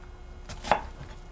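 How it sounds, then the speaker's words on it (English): A knife chops an onion on a board with one crisp, close cut, a soft lead-in followed by a single sharp thunk. "And then I go down through it to chop my onion"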